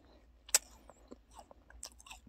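Someone chews the crunchy biscuit base of a strawberry tart, soft close crunches and mouth sounds with one sharp bite, quiet and alone.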